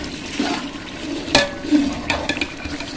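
Water pours into a pot of softened tomatoes while Sindhi biryani is being cooked, giving short splashing gushes and bubbling bursts in a few quick pulses at close range.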